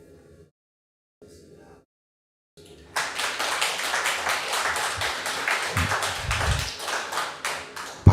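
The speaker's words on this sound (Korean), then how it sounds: "박수는 치셨는데" A church congregation breaks into warm, continuous clapping during a Sunday service, starting abruptly after a quiet moment with brief low speech and filling the room with a dense, even patter of many hands.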